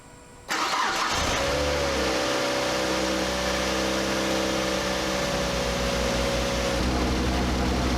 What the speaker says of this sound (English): Now that we've got the engine running, I can add refrigerant.